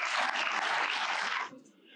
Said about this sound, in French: je vous demande un tonnerre d'applaudissements pour lui, voici Monsieur Ferdy McDermott.